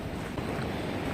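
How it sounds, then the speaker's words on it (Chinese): Ocean waves washing onto a cold, windy shore near a lighthouse at low tide, a continuous broadband wash with wind noise on the microphone, steady and moderately faint, no voices. "听到海浪声没有？"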